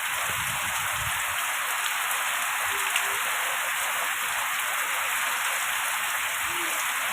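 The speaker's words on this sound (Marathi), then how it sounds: "नुसता आपल्या पत्र्याचा आवाज नुसता तुम्ही ऐका कसा टाप टाप टाप टाप चालू आहे" Heavy monsoon rain drums on a tin sheet roof in a dense, steady roar that fills the whole clip, loud and close with no pauses.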